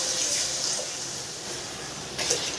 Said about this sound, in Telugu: ఇప్పుడు ఎసురు మనం సరిపోయినట్టుగా ఇక్కడ యాడ్ చేద్దాము